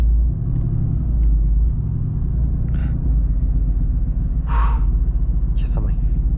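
A Mercedes-AMG GT S engine rumbles deeply and steadily while driving, with a sharp intake of breath and brief vocal sounds from the cabin over the low drone.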